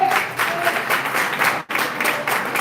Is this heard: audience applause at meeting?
yes